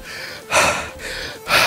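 Heavy, forceful breathing during a burpees bodyweight workout at home: three loud gasping breaths in a rough rhythm, close to the microphone with no talk.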